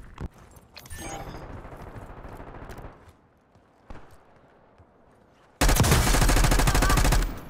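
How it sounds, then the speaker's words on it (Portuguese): Bursts of video game gunfire, scattered shots early on, then a loud sustained volley of rapid fire near the end. "Tô vendo barulho de tiro aqui."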